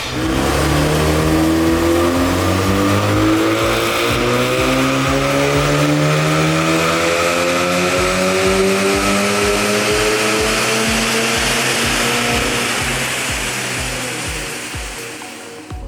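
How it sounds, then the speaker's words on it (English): A tuned Volkswagen Golf R Mk7.5 engine, around 400 horsepower, revs on a dyno in one long sustained pull, its pitch climbing steadily while the loud roar holds before easing off at the end. "He's been doing a lot of data logging and dyno pulls just to get the best out of this engine"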